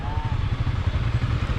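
Motorcycles running close by, a steady low throbbing engine rumble with a rapid uneven pulse that holds throughout, with no voices over it.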